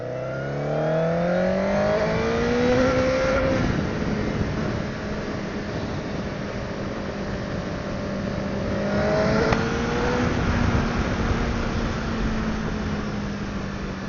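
A Honda CBR1000RR sportbike accelerates hard through rising gears, its engine note climbing steeply and shifting, then surging again in a second strong pull as the motorcycle drives on.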